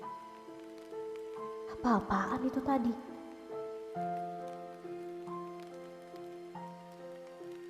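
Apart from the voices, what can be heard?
rain falling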